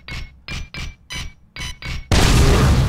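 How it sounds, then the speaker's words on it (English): Bio launcher grenades from Unreal Tournament 4 go off as six quick, evenly spaced bursts, followed by a sustained louder crackling blast, all without speech. "Basically it shoots like grenades"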